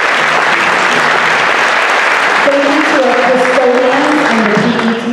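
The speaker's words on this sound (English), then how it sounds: "give a round of applause for all of our district teachers" Loud, dense applause from a concert audience honoring district teachers at a middle school winter band event, a steady wash of clapping with some talk and tones coming through in the second half.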